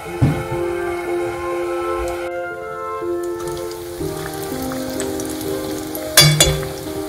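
Breaded chicken shawarma bread pockets, dipped in egg and crumbs, fry in hot oil with a steady close sizzle and a clatter of handling near the end.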